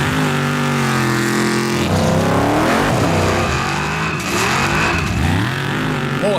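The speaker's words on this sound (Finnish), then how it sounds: "Moottorin ääni repii tärykalvot." A race car engine roars and revs hard at the Heinola sand pit, a loud, raspy, continuous howl with rising and falling pitch sweeps as the driver works the throttle, close and unbroken throughout.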